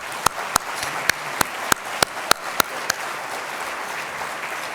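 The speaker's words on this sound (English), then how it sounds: "how about another round of applause for Cindy McCain" Audience applause for Cindy McCain at the International Republican Institute's 2019 Freedom Dinner, a steady wash of clapping from a large room, punctuated by about ten sharp, evenly spaced loud claps from someone close by.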